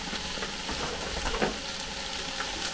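Ground coriander and cumin are stirred in a hot pot for butternut squash soup, giving a dense, continuous close sizzle with soft scraping swirls and no voices.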